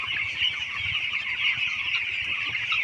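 Poultry chickens clucking continuously at close range in a coop, a dense overlapping chorus of bright, chattering clucks and peeps with no talking.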